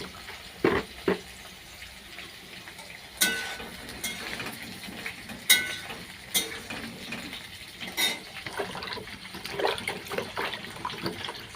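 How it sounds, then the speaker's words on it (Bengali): Tap water running and splashing while new potatoes are washed by hand in a sink or bowl, with intermittent knocks and clatters of the potatoes and vessel, fairly quiet and close. "নতুন আলু তো 2-3 বার করে না ধুলে না কিচকিচ করবে"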